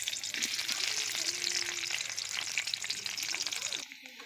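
Onion, bay leaves and whole garam masala spices sizzle steadily in hot oil, a dense continuous frying hiss with faint stirring, easing off near the end.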